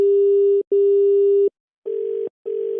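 Telephone tones on a dropped line during a radio prank call. Two steady, loud beeps are followed by two buzzier pulses, each separated by short silences, with no voices.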